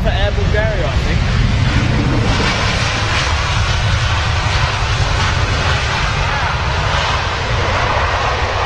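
An airliner at London Heathrow roars loudly and steadily in the open air, a continuous jet rumble that holds throughout while a voice speaks beneath it.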